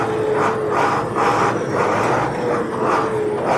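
A crane truck's engine runs with a steady, close rumble that swells and eases in slow waves, with no voices over it.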